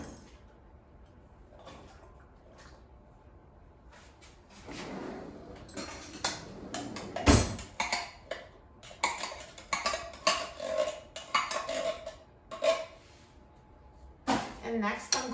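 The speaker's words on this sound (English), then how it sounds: "And now put black beans in a bowl." Canned black beans, drained, tipped into a bowl with clinking, scraping and soft thuds in bursts, fairly close, while a voice talks intermittently.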